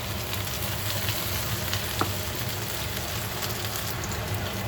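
Onions toast in a frying pan for eggs with crispy onions, giving a dense, even crackling sizzle close up that holds steady throughout, with one brief tap near the middle.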